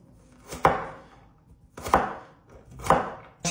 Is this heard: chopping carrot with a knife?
yes